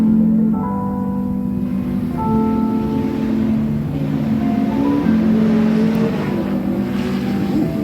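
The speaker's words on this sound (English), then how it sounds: "You can hear that Miata on limiter trying to get the traction he's looking for" At a 2024 Drift Indy competition, a Mazda Miata drift car's engine bounces on the rev limiter, loud, steady droning tones that hold a pitch, drop and jump back.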